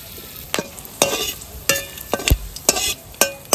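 Bay leaf, cumin seeds, cardamom, cinnamon and cloves sizzle in hot oil in a pan, a steady crackling hiss broken by about eight sharp, close spatula scrapes and knocks at a fairly even rhythm, with no talking.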